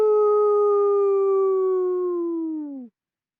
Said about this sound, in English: it can be kind of alarming to hear a wolf pack howling in your living room